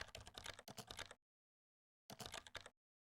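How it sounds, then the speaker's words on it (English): Rapid clicking keystrokes on a computer keyboard come in two close bursts, about a second and then half a second long, separated by a silent pause. "Why are you typing stuff?"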